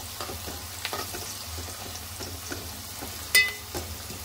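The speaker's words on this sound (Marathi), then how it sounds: "इथं टाकलं आता गरम मसाला, तेजपत्ता, तर आता याला मिक्स करून घ्यायचं." Whole garam masala and bay leaves fry and are stirred in a pan for a mutton dish, a steady close sizzle with periodic scraping strokes of the spoon and one sharper clank.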